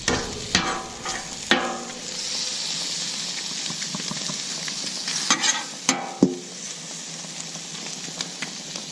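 Shrimp sear with garlic on a Camp Chef 600 flat top griddle, a constant close sizzle and spatter broken by several sharp metallic spatula scrapes and taps, with no voices over it.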